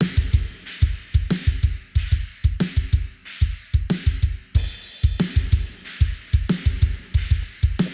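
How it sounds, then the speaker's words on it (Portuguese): A drum kit mixed dry, without parallel compression or room ambience, pounds out an old-school breakdown: steady, loud, punchy kick and snare hits with crashing cymbals in a tight repeating pattern. "olha como fica o som da bateria"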